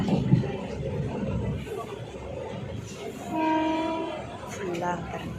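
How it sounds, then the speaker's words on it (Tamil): A passenger train rolls along tracks through farmland toward Karaikudi with a constant rumbling roar, then its horn blares in a sustained blast partway through, followed by a shorter toot near the end. "நம்ம ட்ரெயினில் போயிட்டுருக்கோம்."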